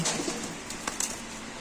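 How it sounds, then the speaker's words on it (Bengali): Racing pigeons at a pigeon club coo softly in a loft, a few low calls over a steady background hum with brief rustles, no talk. "সবগুলা ক্লাবের কবুতর আছে দেখতে পাচ্ছেন আপনারা"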